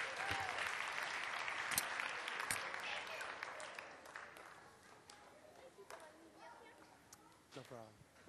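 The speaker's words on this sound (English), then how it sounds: "Why don't we give them another round of applause as they return to their seats?" An audience at a Families on Fire 2006 church session applauds as people return to their seats. The clapping is fairly soft and thins out over several seconds, with scattered voices and a few late claps at the end.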